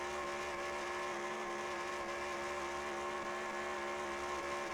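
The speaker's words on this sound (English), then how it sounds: "this is a very good burnout by Tanner Campos" A race car engine held at high revs during a tire burnout in a NASRS race at Circuit of the Americas, a steady loud droning roar with no break across the whole stretch.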